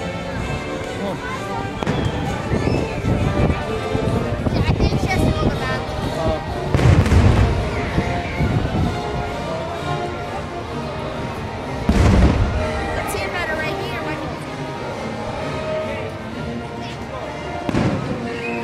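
Fireworks boom at Six Flags New England on Independence Day, with a couple of heavier thuds standing out from a continuous wash of crowd noise and distant bangs.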